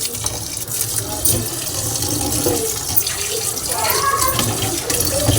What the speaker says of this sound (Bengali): এবার আমি একটু ঠান্ডা পানি দিয়ে ভালো করে ধুয়ে নেব।